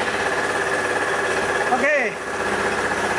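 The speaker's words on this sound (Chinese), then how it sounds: "然后现在我们再来做一个发车的动作" A fuel-injected engine, with its throttle position sensor and air bypass valve just reset to zero, runs at a steady, close idle hum. A brief rising whine sweeps through near the middle, and a voice speaks one short word.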